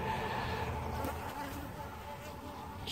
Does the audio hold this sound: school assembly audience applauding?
no